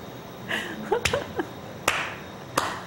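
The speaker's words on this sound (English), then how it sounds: "are you clapping for it?" Three sharp, isolated hand claps ring out at uneven intervals on a talk broadcast set, each a crisp single smack against a quiet room.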